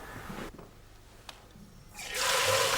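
Liquid gushes into a large anise distillation boiler, a rushing pour that starts, drops away to near quiet, then swells back into a loud, steady flow.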